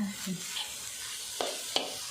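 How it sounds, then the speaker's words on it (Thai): Beef being dry stir-fried in a wok for Thai khua kling with sliced kaffir lime leaves, giving a soft steady sizzle with a few sharp scraping clinks from a spatula against the pan. "ถ้าคั่วแบบให้มันแห้งๆให้กระทะไม่ไหม้หน่อยนะคะ"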